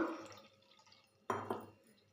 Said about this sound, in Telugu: కొంచెం మామూలు వాటర్ పోసేసుకుందాం